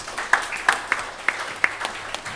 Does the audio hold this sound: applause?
yes